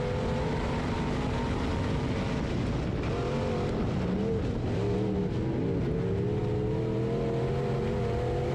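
A B Mod dirt-track race car engine at Springfield Raceway in Missouri roars steadily at high revs, loud and continuous with shifting tones as the throttle varies.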